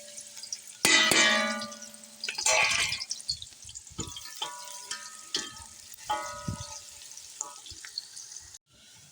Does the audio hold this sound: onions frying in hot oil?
yes